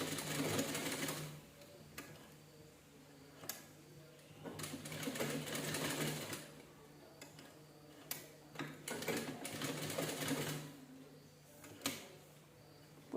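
A sewing machine runs double stitching on fabric for a square or round deity seat cushion, in bursts of steady whirring with short pauses between runs, fairly close and moderate in level, with faint background noise.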